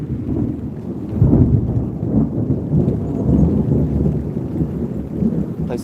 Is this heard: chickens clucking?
no